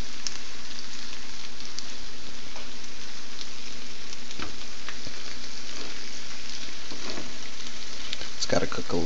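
A bread sandwich frying in a hot pan over a raised flame makes a constant loud sizzle with occasional scrapes and clatters near the end. A voice talks briefly over it.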